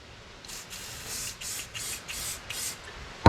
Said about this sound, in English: This is just silicone spray.